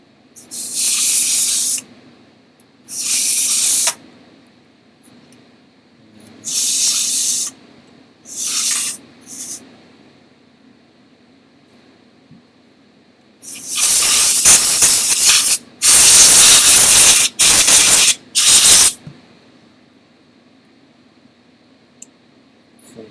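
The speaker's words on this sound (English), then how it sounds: "Compressed gas." Can of compressed gas sprayed while cleaning a Nintendo 64: several loud hissing bursts of varying length, a few short blasts early, then a cluster of longer, denser sprays, separated by quiet pauses.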